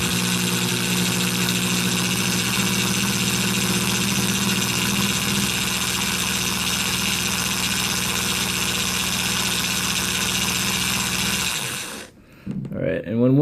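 Drill spinning steadily to twist wire for a vape coil build, a loud continuous whine with a droning hum that stops abruptly near the end, followed by brief handling noises.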